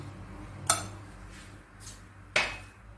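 Chicken being sautéed with crushed spices in a pan, a metal spoon scraping and clinking against the pan in two sharp knocks with softer stirring scrapes between, close by.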